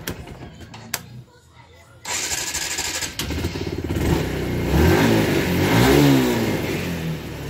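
A TVS Stryker 125 motorcycle, suffering an intermittent electrical fault, starts after a few clicks and brief quiet, then idles and revs up loudly in rising surges close by.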